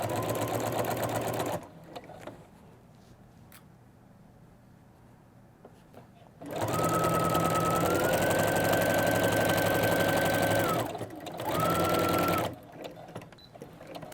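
Sewing machine fitted with a walking foot stitching through quilt layers of fabric and binding, running in two loud, steady whirring bursts separated by quiet pauses, close up with no talking.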